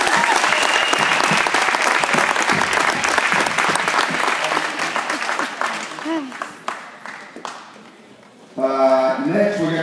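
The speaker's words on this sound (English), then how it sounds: "One more round of applause for these guys" Loud audience applause and cheering at a youth sports team event, a dense roar of clapping that thins into scattered claps before a voice speaks over the end.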